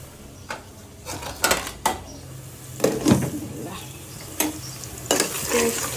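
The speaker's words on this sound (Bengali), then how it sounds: "গরুর মাংসটা এই চুলায় বসিয়ে দিলাম, আগুন দিয়ে দিলাম।" Beef fries in a pot on a stove with a low, steady sizzle. Repeated sharp scrapes and clatters of a spoon stirring against the metal pot come in irregular bursts.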